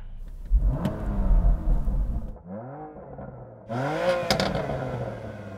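A BMW M2's 3-litre twin-turbo inline six with 410 horsepower revs twice, a rising engine note climbing then dropping off, the second rev sharper and brighter, with no talk over it.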